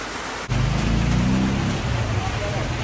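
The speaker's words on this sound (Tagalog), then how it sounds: "Naulan" Steady rain falls in a dense, even hiss that starts abruptly and carries on loud and unbroken, with people talking nearby.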